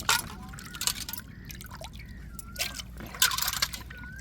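Water trickles and drips with small splashes and sloshing, as raw prawns are rinsed by hand in a bowl, with brief louder swishes.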